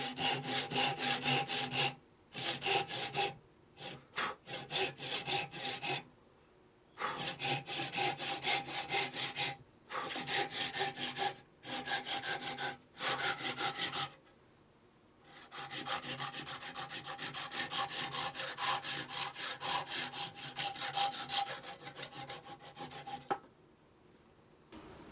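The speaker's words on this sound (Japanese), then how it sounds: "チェッカーの切れ目でうまく切れるように慎重に切り離していきます。" A solid wood, checkerboard-pattern shift knob is sawn apart by hand with steady, rasping back-and-forth strokes, close and clear. The strokes come in runs separated by short pauses, and no one speaks.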